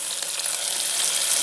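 Onion and tomato frying in a pan, a close, dense, continuous sizzle that holds steady and bright throughout with no voices.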